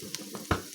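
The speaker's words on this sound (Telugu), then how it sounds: "తాలింపు ఇలా వేగుతుండేటప్పుడు పొయ్యి ఆపేద్దాము" Tempering spices and curry leaves fry in hot oil on a stove for sorrel (chukka kura) dal, giving a brief soft sizzle with a couple of crisp crackles and pops.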